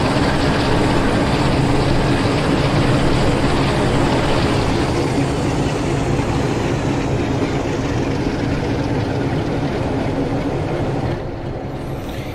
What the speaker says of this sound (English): So great to have a decent sound set on a 47.